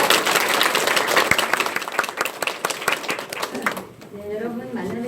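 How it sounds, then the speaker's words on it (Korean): An audience gives warm applause welcoming a lecturer to the stage, with loud, dense clapping for about four seconds that fades out as a speaker's voice begins. "뜨거운 박수로 환영 부탁드립니다."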